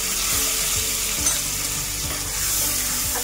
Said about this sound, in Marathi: आता कांदा छान परतून घ्यायचा आहे आपल्याला लाल रंगावरती